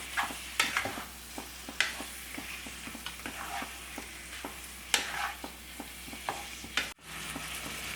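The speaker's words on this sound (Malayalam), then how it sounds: "ഇത് നമുക്ക് ഹൈ ഫ്ലെയിമിൽ വെച്ചിട്ട് ഒരു 5-6 മിനിറ്റ് ഇതുപോലെ ഒന്ന് ഇളക്കി കൊടുക്കാം." A spoon stirs Kerala chicken stew in a pan over a high flame, scraping and clacking in a steady rhythm over a soft background sizzle, close and fairly quiet with no talking.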